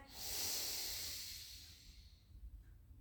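A single long, airy in-breath, loud and close, rising quickly then slowly fading into quiet room noise.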